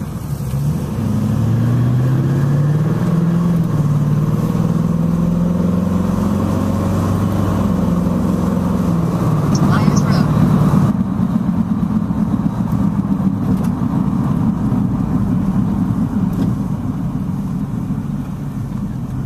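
A Jeep driven around at an outdoor NSRA appreciation day gathering in Florida, its engine a steady, close, loud rumble with slowly shifting pitch as it moves, running on without pause for the whole stretch.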